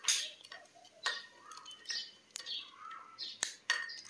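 A worker cuts the winding connection wires of a submersible motor, making a series of sharp metallic snips and clicks at close range in an irregular rhythm, with small tinny scrapes between cuts.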